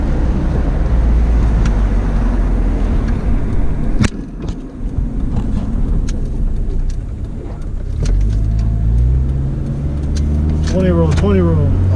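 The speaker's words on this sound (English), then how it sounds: "you hear that supercharger whining?" A car's supercharger whines as the engine accelerates hard through a downshift, a rising mechanical whine over loud engine roar near the end, with a person talking over it.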